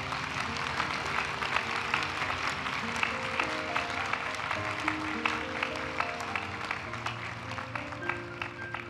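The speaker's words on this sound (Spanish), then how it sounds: "Un fuerte aplauso, por favor" A graduation ceremony audience applauds the new master's graduates, with steady, fairly distant clapping over a sustained musical backdrop of held tones.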